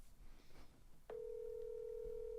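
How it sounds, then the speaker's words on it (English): Telephone call being placed: a few soft dial clicks, then a steady, loud tone sounds from about a second in and holds to the end, alone with no voices. "We're gonna get him on the phone if he'll answer."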